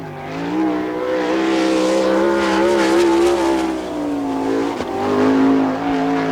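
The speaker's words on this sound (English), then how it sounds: "Mark Keegan gets his qualifying effort underway right now in car number 92, the Chuck Steinbrück entry" Sprint car number 92 roars through a qualifying lap at Attica, Ohio, its loud engine holding a high, rising and falling whine with gear-like pitch shifts, close and continuous with no voices.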